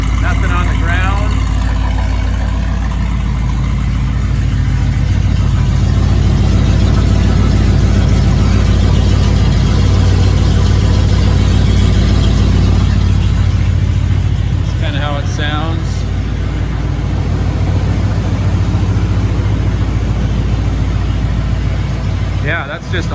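A 1987 Ford Econoline E350 Infinity Conversion van's engine idles steadily after a cold start following a few days parked, a loud continuous low rumble, with brief speech over it.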